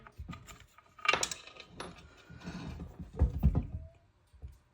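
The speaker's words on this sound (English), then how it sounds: "I will remove the bolt and pulley." Bolt and pulley being removed from a John Deere Max Emerge planter's precision meter: quiet metallic clinks, jangles and scraping handling sounds, close and unhurried, with no talk.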